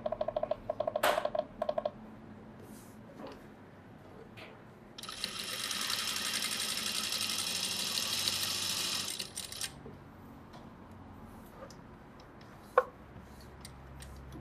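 A sewing machine stitches an edge seam at reduced speed, a steady whirring run of about five seconds, bracketed by scattered clicks and mechanical taps before and after.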